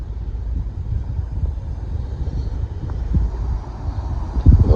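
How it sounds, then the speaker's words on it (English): Strong wind blows through a tunnel at night, a heavy low rumbling roar with gusty buffeting that swells slightly toward the end, no voices. "You can tell how windy it is blowing through that tunnel there."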